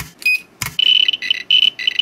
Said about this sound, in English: That right there is the little piezoelectric speaker that makes all those lovely beeps.